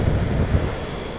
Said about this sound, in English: it's a very, very windy afternoon